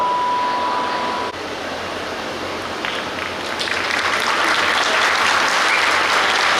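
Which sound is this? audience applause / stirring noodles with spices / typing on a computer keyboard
audience applause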